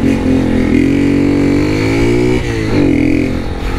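A 2023 Honda Start 160 motorcycle with a Torbal aftermarket exhaust revs hard and loud, its engine note rising, dipping briefly and climbing again in a continuous throaty roar with no talking.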